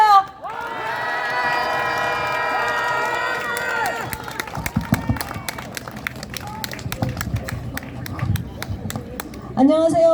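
Crowd at an election rally in Daegu shouting and cheering, a loud sustained roar that breaks into scattered claps and cries before a voice resumes.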